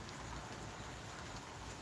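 Steady outdoor rain falls hard in a continuous, dense hiss without pauses, close and even throughout with no voices.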